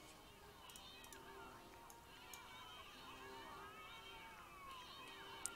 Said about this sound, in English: there seems to be a whole, like, fight between cats going on